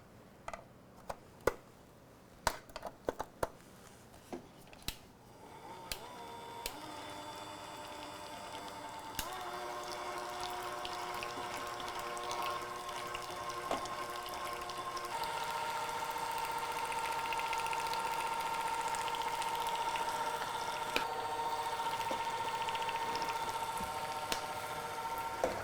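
Cordless hand mixer whipping cream to soft peaks, starting with a few clicks and knocks and then settling into a steady, faint motor whir that builds slightly as it runs, with no voices.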